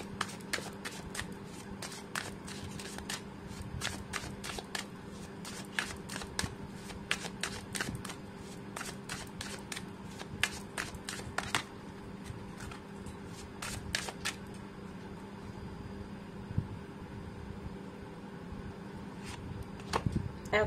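Tarot cards being shuffled in repeated quick riffling bursts, crisp flutters and snaps at close range, with a low steady hum underneath and no speech.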